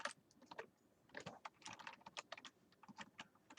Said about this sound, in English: I'm just gonna type an objection in full caps